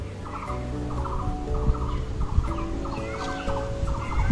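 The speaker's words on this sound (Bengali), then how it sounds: "ওই যে ময়ূর ডাকছে, এইখানটা ময়ূর ডাকছে" A peacock calls repeatedly in a wildlife sanctuary at Rongtong in Mahananda Wildlife Sanctuary, North Bengal. Its harsh, honking cries recur roughly every second at moderate distance over a low background rumble, with no talking.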